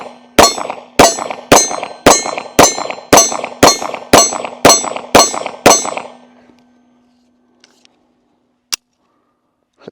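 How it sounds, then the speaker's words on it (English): A Bodyguard 2.0 compact pistol fires eleven sharp, loud shots in a quick, even rhythm from a 12-round magazine, each report ringing briefly. Quiet follows, broken by a couple of faint clicks and one later sharp metallic clang. "Shot the 12-round mag."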